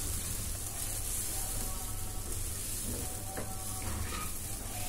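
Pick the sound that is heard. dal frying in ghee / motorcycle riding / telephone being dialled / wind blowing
dal frying in ghee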